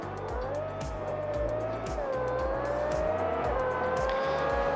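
GT race cars at Bathurst pulling away on the formation lap, a dense layered drone of engines with rising and falling whines and rhythmic gear-shift steps, a commentator faintly over it.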